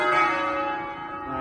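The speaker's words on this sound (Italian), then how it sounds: "Poi abbiamo anche il drone tecnologico che via telefono fa suonare le campane" A church bell, rung remotely by a phone-controlled device, gives one rich, resonant strike that hums and slowly fades.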